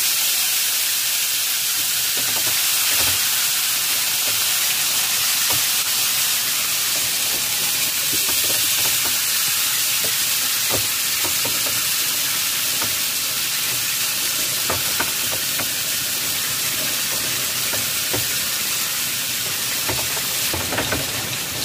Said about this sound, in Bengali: ম্যারিনেট করা মাংস দিয়ে দেব।